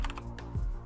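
Quick bursts of typing on a computer keyboard, several close, crisp key clicks in an uneven rhythm, with no one talking over them.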